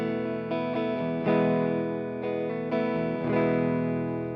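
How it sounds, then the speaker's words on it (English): Electric guitar with its volume knob turned down to 3 for a clean tone, played through a Bugera V5 Infinium tube amp into a Bugera 1x12 speaker cabinet: several ringing strummed chords, sustained and close, with no talking. "I'm gonna put the volume of my guitar on 3, and you'll get a nice clean tone this way."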